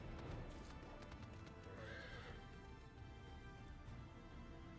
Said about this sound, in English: I'm just gonna use my horse to get her around